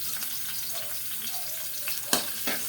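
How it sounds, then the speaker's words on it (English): Garlic sautéing in oil in a pan for a Filipino pork mechado, a steady soft sizzle with a few sharp stirring clicks near the end. "Stir up the garlic"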